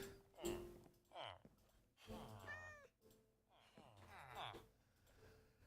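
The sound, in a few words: cat meowing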